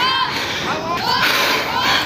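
A dense crowd of tourists mills and chatters at Swayambhunath temple in Kathmandu, a loud, continuous wash of overlapping voices and shouts close around, with no single voice standing out.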